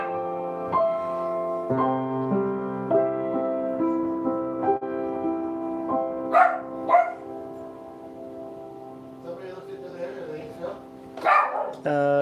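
A household dog barks in short bursts over sustained music from a live piece, its yaps rising out of the steady tones several times, with people speaking briefly nearby.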